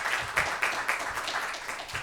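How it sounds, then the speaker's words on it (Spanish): An audience at a university discussion event applauds for the speaker Bernardo, with brisk, moderately loud clapping continuing throughout. "Un aplauso,"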